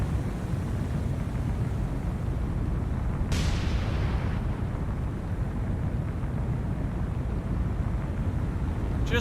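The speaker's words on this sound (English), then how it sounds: "Just in case, I'm going to let them fire another salvo." Naval artillery fires in the World War II naval game War on the Sea, during Operation Watchtower: a single sharp, heavy blast rises out of a constant loud roaring rumble of gunfire and distant explosions.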